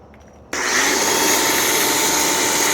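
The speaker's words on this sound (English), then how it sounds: "you just hook it up to the power washer and send it" A Mingle PW31 6 foam cannon on a pressure washer bursts into action after a brief quiet moment, then a loud, steady hissing spray continues without a break.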